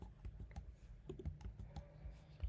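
Quiet typing on a computer keyboard, with a scattered run of soft, close key clicks and taps and no voices.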